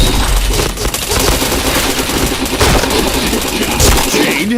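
Sustained machine-gun fire from a shooting video game, loud and unbroken rapid bursts of automatic gunfire with booming impacts, filling the whole stretch with little pause, and faint speech in the mix.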